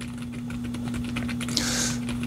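Soft, rapid keystrokes from a quiet Aula F87 Pro mechanical keyboard with low-noise Outemu Peach switches, a steady muted patter over a low electrical hum.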